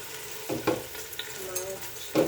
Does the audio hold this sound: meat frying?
yes